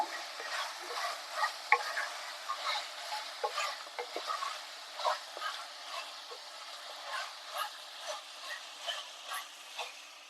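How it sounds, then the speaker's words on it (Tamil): A spoon stirs roasted ground masala into cooked mutton for Madurai-style uppu kari, making soft repeated scrapes and light clinks in a steady rhythm over a quiet sizzle. The sound is faint and no one speaks. "சேர்த்து இதை ஒரு ரெண்டு நிமிஷம் நல்லா கலந்து விடுங்க"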